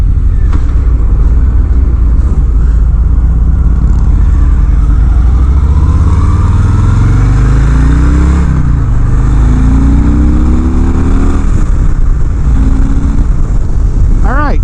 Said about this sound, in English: bike's got decent acceleration, decent off the line right there